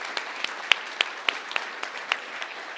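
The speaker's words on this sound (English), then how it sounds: "I'd like to ask for another round of applause." A small church congregation at a Unity Sunday service claps, with sparse individual claps ringing out in an uneven rhythm, moderately close.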